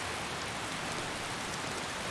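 Steady rain falls in the video game Skyrim Special Edition, a constant broadband hiss of drops with no voices, holding an even, moderate level throughout.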